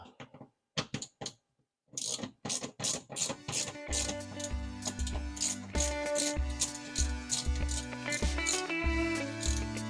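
A ratcheting driver backs out four quarter-inch screws from a dishwasher's lower sump area: rapid clicking bursts, then a continuous mechanical ratchet with rhythmic pulses, loud and close, no talk.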